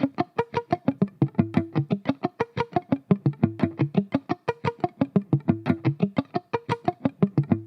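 Six-string guitar sweep played with pick and fingers on muted dead notes, a fast, even run of percussive clicky plucks repeating for several seconds, close and alone with no talking.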